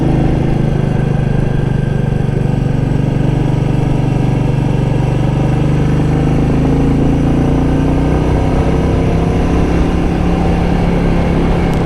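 A Royal Enfield Meteor 350 motorcycle riding in third gear gives a loud, steady engine drone with wind rush, its pitch shifting slightly as the road climbs, close and constant throughout.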